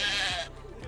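A pet sheep on a TV sitcom set gives a loud, close bleat that fades into a quieter second call.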